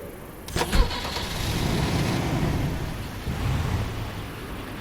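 Sedan car engine in a video game, a steady mid-pitched engine hum after a short clunk, close and continuous, with a slight rise near the end.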